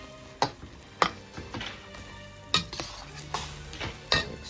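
Tomato and egg being stir-fried with seasonings, brown sugar and other seasonings in a pan, with a soft sizzle under sharp, intermittent clanks of a utensil against the pan at close range.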